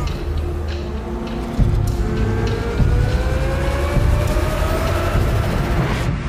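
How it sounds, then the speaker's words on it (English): A 2023 Corvette Z06 with a naturally aspirated V8 runs steadily, its engine note rising and droning loud and close throughout, with a slight jump in intensity partway through. "the highest horsepower naturally aspirated V8 that's ever done in automotive history"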